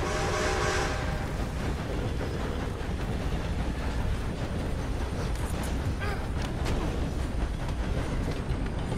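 Train moving in the video game Red Dead Redemption 2, a dense, continuous rumble and rattle of rolling wagons with faint clickety-clack, loud and steady throughout with no talking.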